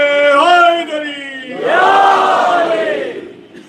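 A crowd at a Shia majlis gathering chants the slogan Labbaik ya Hussain in unison, loud massed voices rising in two drawn-out calls close to the microphone.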